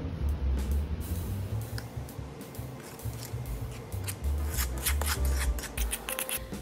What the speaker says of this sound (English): Now whisk until fully incorporated.